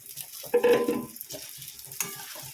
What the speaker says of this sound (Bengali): এরপরে আমি এই চালটা দিয়ে দেব চালটা আর ডালটা একসঙ্গে ভাজবো